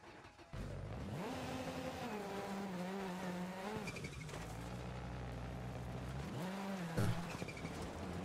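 A rally car in DiRT Rally 2.0: the engine roars up and revs with rising and falling pitch, easing off between pulls, with tire scrubbing and a brief sharp knock near the end, and no talking.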